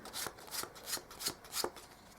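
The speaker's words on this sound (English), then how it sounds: "Okay, I'll give these cards a mix again." A deck of playing cards is mixed for a magic trick: about five quick, evenly spaced swishes of cards sliding together, close and soft, with no talking.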